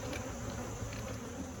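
Honeybees buzz steadily around a broodless, queenless hive, forming a dense continuous drone that sounds close and fills the entire short moment without any voices.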